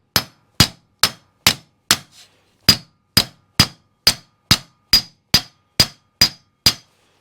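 A hammer taps a front wheel bearing into a Willys Jeep in an even, unhurried rhythm, each sharp clang ringing briefly before the next, about fifteen strikes with one short pause.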